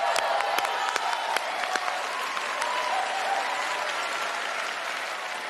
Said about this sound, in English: Big round of applause for Sheena.